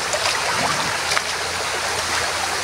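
Water spills and flows over rocks in a shallow stream during the dry season, a steady, loud, close rushing wash that continues unbroken with no voices.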